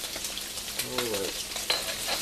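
Garlic frying in a pan for General Tso's tofu, a close crackling sizzle with a brief utensil scrape and soft stirring clinks.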